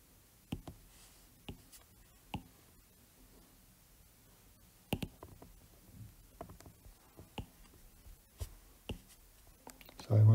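Pen strokes and taps on a smooth tablet screen during a handwritten game theory lecture come through as faint, scattered scratches and clicks, alone and at close range, with a louder bump at the very end.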